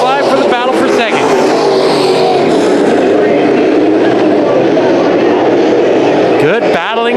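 Race cars roar around the Bakersfield Speedway oval in a heat race, a loud continuous engine blare with rising and falling pitch as cars pass near, an announcer calling the finish over the noise.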